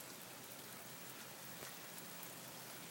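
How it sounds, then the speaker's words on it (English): Morning rain falls steadily in a soft, continuous patter, with occasional slightly louder drops over the even hiss. "It's only 8:50 in the morning and it's raining."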